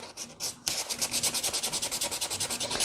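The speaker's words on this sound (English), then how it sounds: "We're gonna go ahead and sand all sides here before we put on our second coat of paint." Fine 220-grit sandpaper rubs over painted wood in quick, even back-and-forth strokes, a close, steady rasping rhythm after a brief pause at the start.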